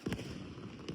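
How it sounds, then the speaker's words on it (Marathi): Firecrackers set off during Diwali celebrations at Shivaji Park, Dadar, with two sharp, loud close bursts near the start and another at the end over outdoor crowd noise. "जानबूझ के उसके सामने पटाखे फोड़ रहा है"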